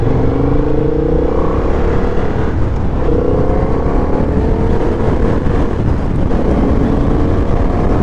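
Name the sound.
Honda CB750 Hornet motorcycle engine while riding and downshifting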